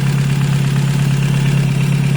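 Freshly overhauled engine idles loudly and evenly up close, a steady low hum with a smooth, unbroken tone.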